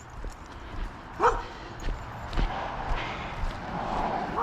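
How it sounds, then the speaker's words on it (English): Small dogs yap and bark in short bursts at irregular intervals during an outdoor walk, moderately close, with faint scuffs and footsteps between the barks. "Got my little doggy friends."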